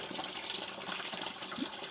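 Water flowing at a spring at Horvat Anin, where an old pipe once carried it onward; a steady, close, hissing gush that holds at an even level for the whole stretch, with no talk over it.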